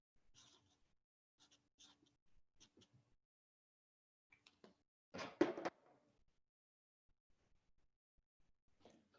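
A pen scratches on paper in short, faint strokes separated by pauses, with one louder burst of scribbling near the middle, close and quiet in a still room.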